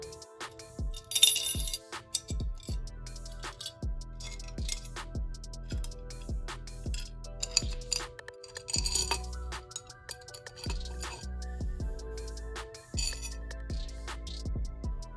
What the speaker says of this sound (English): I used a 4mm Allen key wrench to loosen these up